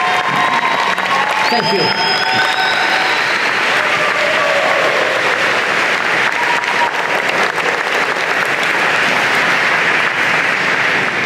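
Loud, sustained applause from a convocation audience for standing engineering and computer science faculty and staff, steady dense clapping throughout with a brief spoken thanks near the start.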